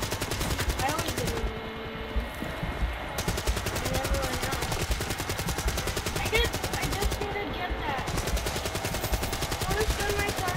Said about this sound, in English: you can run and shoot this whole time